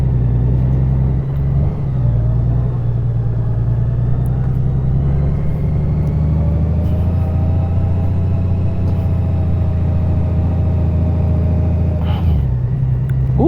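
A car drives along a road toward a freeway, its steady engine rumble and tyre roar filling the cabin throughout, with a brief shift in the drone near the end.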